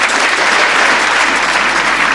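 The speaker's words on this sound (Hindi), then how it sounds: "एक बार जोरदार तालियां बजाइए" Audience at a Hindi kavi sammelan poetry gathering in Pilibhit bursts into loud, dense applause, a continuous close wash of many hands clapping with no pauses.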